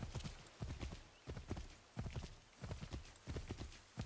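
A horse gallops in Assassin's Creed 3 Remastered, its hooves beating out a fast, repeated clip-clop rhythm in bursts, fairly close and clear, with no talk over it.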